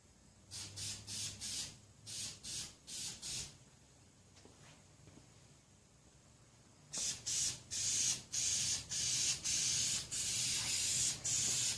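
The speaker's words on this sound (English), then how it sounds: "Really putting the distance on the spray." Short bursts of aerosol spray hiss as truck bed liner is sprayed from a can onto a car hood, in a rhythmic series, pausing briefly, then resuming with longer, louder sprays close to the listener.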